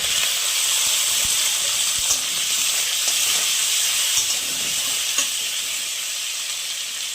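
Ginger and tomato land in a frying pan and keep up a strong, even sizzle with small pops and spatters throughout, close and continuous without any talking.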